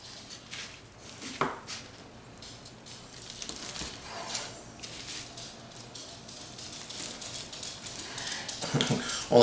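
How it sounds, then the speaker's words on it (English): Barbecue pulled pork quesadillas sliced into quarters with a knife on a board, irregular soft cutting thuds and crunches, close and fairly quiet, getting louder toward the end. "We're gonna slice these up. All right, guys, so let's just slice these up. I'm gonna do them in quarters here."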